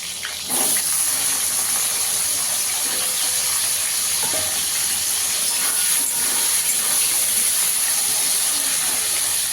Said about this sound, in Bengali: এখানে আলু কেটে রেখেছি, আলুটা ভেজে নেবো আগে